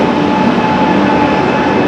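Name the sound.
Kanyakumari Express train arriving, hauled by WAP-7 locomotive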